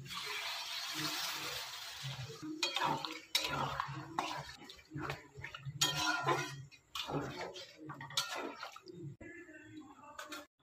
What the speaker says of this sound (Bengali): এখন আমি জল দিই